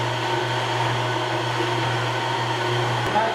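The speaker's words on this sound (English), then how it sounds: "And run through the milling machine, which will turn everything into like a little cheese French fry." Steady loud mechanical hum of a milling machine cutting cheese curds into small fry-shaped pieces on a farm, a constant motor drone with a low tonal whine and no breaks, close by.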